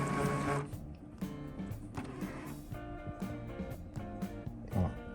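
An Epson TX-series inkjet printer fitted with a bulk ink system powers on, its carriage motor whirring and clicking through a series of mechanical start-up movements, close and moderately quiet with no talk.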